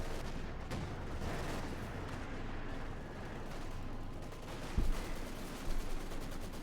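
Machine gun and tank cannon fire in a Company of Heroes 2 battle, a dense, continuous crackle of distant gunfire with a couple of heavier booming shots standing out near the end, no voices.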